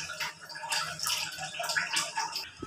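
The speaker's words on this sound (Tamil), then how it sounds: "ஒரு பங்கு அளவு தண்ணி ஊற்றிக்கோங்க." Water is poured onto sugar to make syrup for coconut burfi, a short, close, continuous splashing trickle with no talk.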